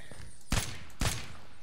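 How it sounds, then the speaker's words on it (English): Gunfire in the video game Unturned with a weapon mod: two sharp, punchy shots about half a second apart over a low background hum. "All these gun sounds are very nice."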